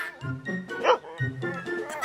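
Small dog yips and barks in a quick series of sharp bursts, close and fairly loud, mixed with shouting voices in a beach setting.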